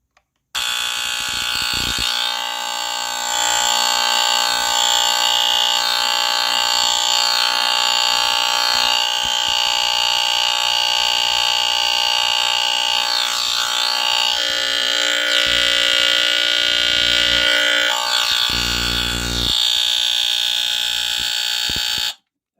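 NuTone-Scovill S-191 smoke detector with its cover off sounding its alarm, a loud, continuous shrill electronic tone with a buzzy edge that holds steady for about twenty seconds before stopping, close up and with no speech.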